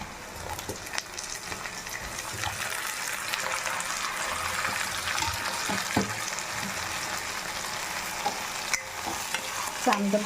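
Eggs, prawns and taro frying in oil in a pan, a constant sizzle with a spoon stirring and scraping throughout and a few sharper knocks toward the end.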